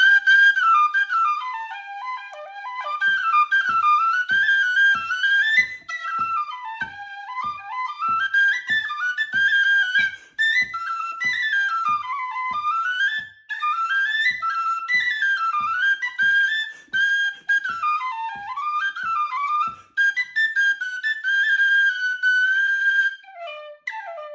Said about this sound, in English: I play a little tune on this whistle that I was just handed